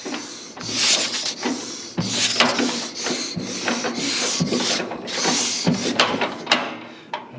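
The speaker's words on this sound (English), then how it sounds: "we're going to go ahead and give it a couple of turns here with the flywheel, see if she'll fire" Antique John Deere tractor being cranked by its flywheel, a rough mechanical rubbing and ratcheting churn in several repeated pulls, close and fairly loud with no voices.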